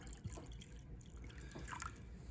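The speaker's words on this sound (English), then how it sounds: "And I like to just take some sake and pour in it." Sake poured into a bowl of water for sushi rice, a soft, close liquid trickle with light splashing and dribbling over a couple of seconds.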